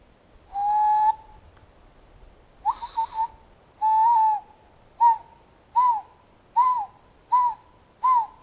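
A series of clear whistles used as a signal in an indoor corridor: several long sustained tones followed by a run of short, evenly spaced chirping whistles, loud and close with no talk.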